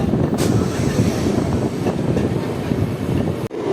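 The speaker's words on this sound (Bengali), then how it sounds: "1 মিনিট হল দেওয়ার পর আমাদের ট্রেন বেরিয়ে গেল এখন খানা জংশন" The Asansol–Bardhaman MEMU passenger train pulls out of the station with a continuous, close rumble of wheels and carriages, steady and loud, broken by a short dip near the end.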